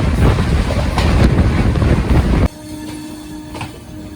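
Howrah Bikaner weekly superfast express train (12371) running on the rails, a loud, steady rumble with wind noise that drops abruptly to a quieter, steadier hum partway through.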